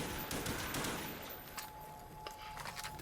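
Rapid video game gunfire from Dead Ops Arcade, a top-down shooter mode in a Call of Duty zombies session, a dense stream of shots with a steady tone underneath, fairly loud and continuous throughout.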